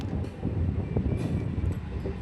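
A MEMU electric train pulls out of Turandahalli station, heard from on board as a steady low rumble and rattle of the wagons with faint clanks over the top and no voices.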